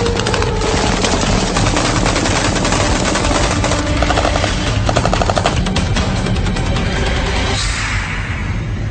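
Fully automatic gunfire blasts a target wall in a long, loud, unbroken rattle of rapid shots, dense and continuous with no talking.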